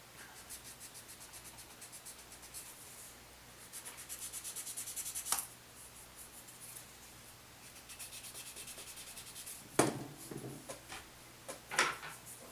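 Steady rasping strokes of a high grit file against a plastic Gundam MG 00Q GN Sword IV model kit part, soft and close, with a few sharper knocks and scrapes near the end.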